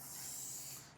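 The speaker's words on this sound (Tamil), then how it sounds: "கிளிப் போடாமல் அப்படியே டக்குன்னு ஸ்ப்ரே பண்ணிடுறேன்" Hair spray released in one short continuous hiss while styling curls, close and steady, fading out at the end.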